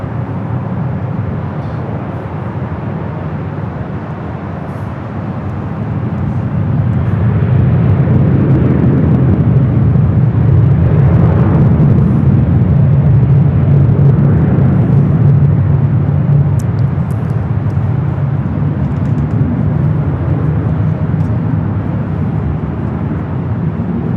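A Southwest airliner lands on runway 24 left at LAX: a deep, fairly loud rumble swells after a few seconds and holds steady, a broad roar that eases only slightly toward the end, with no voices.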